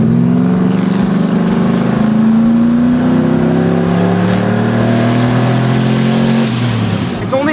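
A supercharged truck engine on a test drive holds a loud, steady rising drone as it revs. Low harmonics climb gradually before dropping off near the end, with no talk over it.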